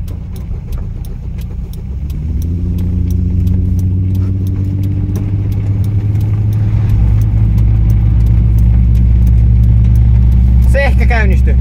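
A car engine turns over and catches, then settles into a loud, steady running drone with rising harmonics, heard close up for several seconds.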